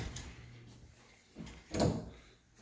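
A soft-close kitchen cabinet drawer slides shut during a cabinet installation, giving a faint slide followed by one short, muffled thump near the end.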